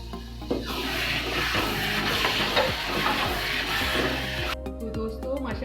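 Grated carrots stir-frying in ghee for gajar ka halwa, a continuous sizzle with scraping and stirring strokes of a spoon against the pan, close and steady.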